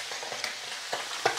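Garlic and squid frying in a pan, a soft steady sizzle with faint stirring scrapes, quiet and alone.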